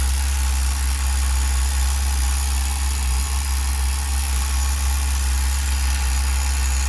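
A Tamiya TGS-R nitro RC car engine on its factory carburetor setting runs steadily during break-in, a loud, buzzy idle with a constant low drone and no voices.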